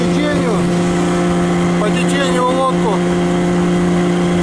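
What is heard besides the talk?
motorboat engine running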